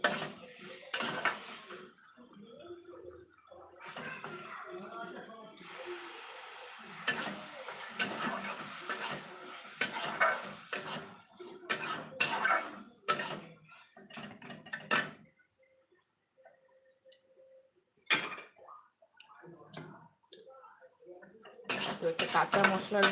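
Egg dhoka curry cooked down in a pan with a splash of water, a spoon scraping and clinking against the metal in bursts, with pauses between, while someone talks over much of it.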